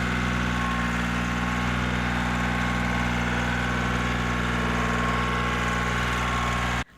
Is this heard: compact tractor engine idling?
yes